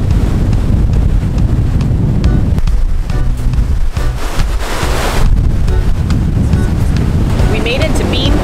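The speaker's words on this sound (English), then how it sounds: "It's become a bit overcast, really windy." Strong wind buffets the microphone at the northern tip of Anna Maria Island, a loud, steady roar with surf and water noise beneath it and no speech.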